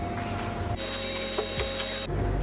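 A sewing machine runs zigzag stitches along the border of a princess-cut blouse, making a continuous, close, rhythmic mechanical whir throughout with no pauses or voices.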